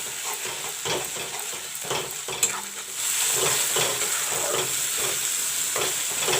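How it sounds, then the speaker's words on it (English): Turmeric and coriander powder masala sizzles and fries in a pan for a village-style egg curry, with a steady hiss and a utensil stirring through it, growing a little louder partway through. "Put some dhania powder. And let the masalas fry."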